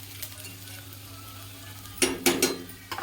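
Peanuts frying in oil in a pan: a low steady sizzle, then a few quick stirring scrapes and clinks of a utensil against the pan near the end.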